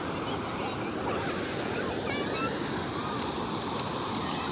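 River water rushes in a steady, dense wash with a strong wind-like roar, continuous and fairly close, with faint voices under it.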